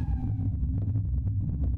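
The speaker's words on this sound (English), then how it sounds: "Is that an ambulance siren? Why is it so distant?" Distant ambulance siren in the horror video game Cold Front, a steady wailing tone with a faint rattling undertone that holds for the whole short stretch, with no voices.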